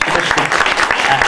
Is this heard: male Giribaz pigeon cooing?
no